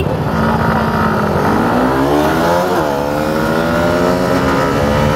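A Hero Xtreme 160R and a KTM Duke motorcycle in a drag race, a loud, close, continuous engine roar that climbs in pitch as the bikes accelerate hard.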